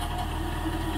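A New Holland 3630 tractor engine runs steadily with a low, even rumble while pulling a Jagatjit super seeder in a field, heard briefly and close with no talk.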